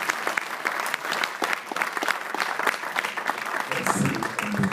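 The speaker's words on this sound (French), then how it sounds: "On acclame le Seigneur." Church congregation clapping to acclaim the Lord during a service, dense sustained applause filling the room for several seconds, loud and continuous with scattered sharper claps and a few voices rising near the end.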